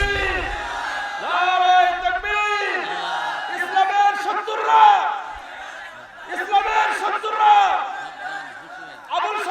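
A crowd at an Islamic religious sermon chants in unison in answer to the Nara-e-Takbir call, loud rhythmic massed voices rising and falling in repeated waves.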